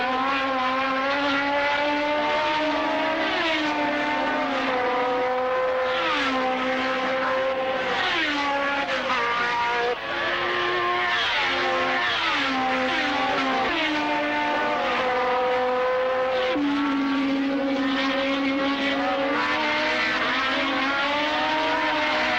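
Racing cars at the Italian Grand Prix at Monza in 1973 roar past continuously, engine notes climbing and dropping as they pass, loud and unbroken throughout with no voices heard.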